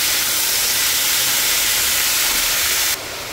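Cauliflower pieces frying in a pan give a loud, steady, hissing sizzle that holds for about three seconds, then drops abruptly to a quieter hiss.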